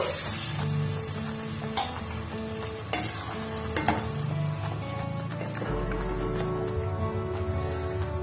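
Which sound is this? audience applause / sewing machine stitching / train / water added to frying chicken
water added to frying chicken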